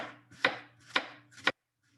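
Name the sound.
knife slicing an onion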